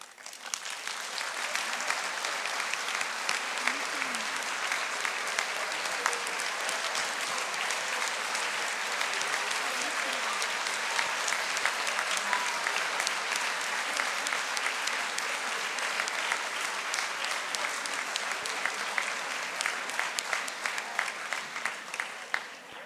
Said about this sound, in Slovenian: Z aplavzom bi vam radi izrekli iskrena hvala.